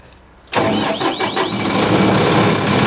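A large 200 hp turbo tree chipper's engine cranks and catches after a moment of quiet, then settles into a loud, steady mid-pitched idle up close.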